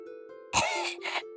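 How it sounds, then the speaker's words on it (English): A girl coughs after a poisoned apple lodged in her throat is dislodged, two broad, fairly loud bursts in quick succession following a quiet sustained tone, in a children's narrated fairy tale. "she began to cough"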